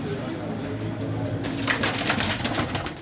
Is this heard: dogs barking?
no